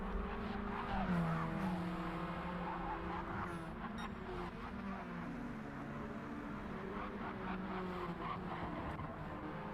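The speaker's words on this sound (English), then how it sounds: "All these drivers are navigating some lap traffic as they're going around the racetrack here at this point as well." Radical race cars lapping a racetrack in a Supercup round, engines droning and shifting pitch as they pass through lap traffic, a steady loud roar throughout with a faint squeal.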